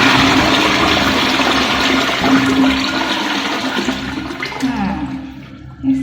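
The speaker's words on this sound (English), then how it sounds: "let me try to flush it" A toilet flushes, with a loud rush of water that gradually drains away to a gurgle and quiet near the end, close up with no talking.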